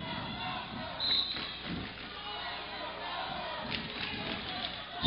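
Biased crowd at a wrestling match yelling loudly and continuously, with a swell of shouts near the start and steady roaring throughout, no clear talk.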